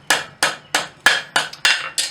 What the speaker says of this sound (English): You want to do this with a rawhide mallet.